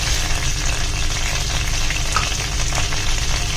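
Cardamom pods, cloves and fennel seeds fry in hot oil for a Kerala-style prawn roast, giving a dense, steady sizzle that fills the whole moment, close and loud with no talking.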